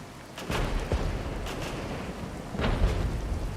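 Units in the Regiments video game fire their weapons as several dull distant booms and thuds over a rumbling battlefield background, some overlapping, with no voices heard.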